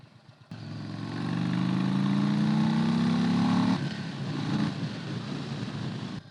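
Indian Chief Bobber Dark Horse motorcycle with a Thunderstroke 116 engine, Stage 2, accelerating on the road: a loud, close engine note climbs steadily in pitch for about three seconds, drops at a shift, then pulls again.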